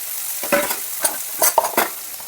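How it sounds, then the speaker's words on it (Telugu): Thinly sliced onions fry in hot oil for a chutney, giving short bursts of sizzling with stirring scrapes at irregular moments over a quiet background. "ఆయిల్ వేడెక్కినాక ఆనియన్స్ వేయాలండి"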